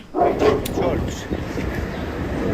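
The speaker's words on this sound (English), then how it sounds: "I hear the dogs." Dogs bark and yip in the distance, mixed into ongoing talk from people nearby.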